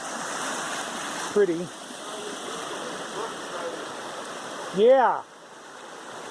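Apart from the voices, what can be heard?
small waterfall on hiking trail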